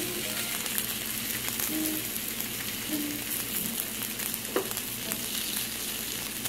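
Ground turkey burger patties sizzle steadily on a Foreman grill, a close, continuous frying hiss with faint crackles and a low background hum, and no one speaking.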